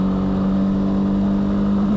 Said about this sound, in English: So as we go out the village, we accelerate away.